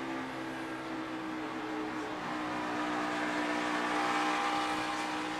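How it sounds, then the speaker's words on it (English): NASCAR Xfinity cars at full throttle during the Heads Up Georgia 250, a sustained engine drone heard from onboard that swells slightly louder toward the end, with no voices over it. "Really hard on the throttle with these cars."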